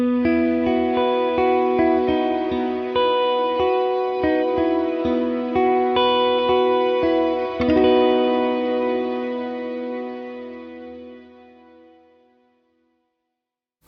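A guitar runs through a Strymon Cloudburst reverb pedal, with plucked notes blooming into a lush, shimmering ambient wash that swells, then decays slowly into a long fading tail before falling silent.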